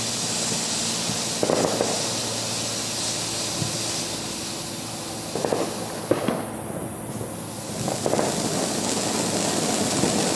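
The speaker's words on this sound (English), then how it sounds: "I like the rocket sound." Fireworks rockets crackle and pop over a steady hissing roar, with several sharp bursts scattered through the clip and no voices.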